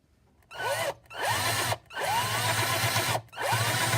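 Power drill fitted with a 7/64 bit boring into a part of a Mamod SP2 steam engine, running in three close, loud bursts of whining motor and grinding with brief pauses between, no talking.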